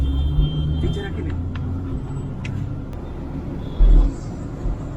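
Vehicle engine rumble in congested road traffic, a steady low drone with a short louder burst near the end, as people talk nearby.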